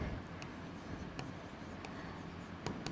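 Marker or chalk writing out an email address on a board during a computer lesson, with steady scratchy strokes and a few sharp taps, close and moderately loud, with no talk.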